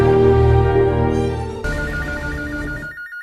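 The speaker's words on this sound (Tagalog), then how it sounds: "Ay, kulbaan mo kog muri ang telepono." A landline telephone rings loudly and up close in a steady electronic trill that changes tone partway through, then cuts off abruptly, with no voices over it.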